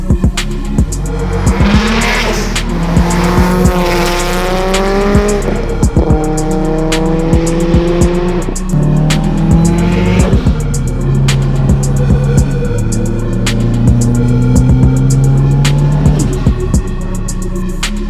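An 800-horsepower Subaru STI is driven hard, its engine loud and close, climbing through revs and shifting gears in repeated pulls, with a tyre squeal and a rapid crackle of exhaust pops.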